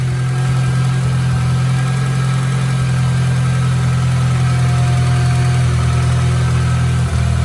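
A newly installed car engine idles smoothly after its first start, a loud, steady, even rumble that holds constant throughout.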